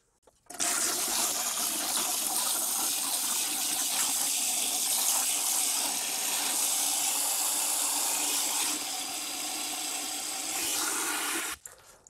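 Water is poured over live rock from a saltwater aquarium before a bleach soak: a loud, continuous close rush for about eleven seconds, starting and stopping abruptly, with no talk.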